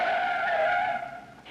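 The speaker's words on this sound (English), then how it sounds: "The police car had good brakes," A police car braking hard with tires skidding to a stop, a loud sustained tire squeal that holds steady, then fades and breaks off near the end.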